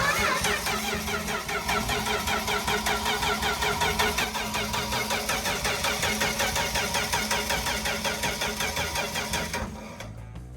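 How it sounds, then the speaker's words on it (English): A 1964 Dodge truck, an ex-highway-department work truck, has its engine cranked over steadily by the starter for about ten seconds. The churning is loud and continuous and cuts off abruptly near the end, with no voices. "Yeah, go ahead, crank it."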